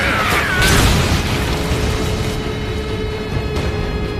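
A ship blows apart after being struck by an arrow carrying explosives, giving a loud booming blast that then trails into a long rumbling, crackling roar as debris settles.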